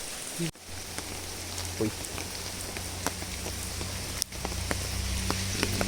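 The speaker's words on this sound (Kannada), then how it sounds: "ಮಳೆ ಜೋರಾಗಿ ಬರ್ತಾ ಉಂಟು" Steady heavy rain patters and hisses on surfaces nearby at Hanumagiri temple in Puttur, with scattered louder drops and a low background hum throughout.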